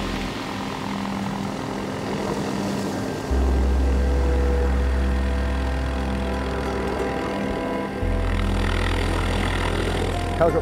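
A steady rotor and engine drone of a helicopter overhead in New Zealand, fairly loud and continuous, swelling slightly partway through.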